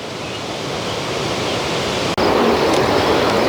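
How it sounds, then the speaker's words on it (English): A steady, loud rush of falling water from a waterfall beside a mountain trail in the Grand Tetons, continuous broadband roar with a brief dropout partway through, no voices. "Another waterfall."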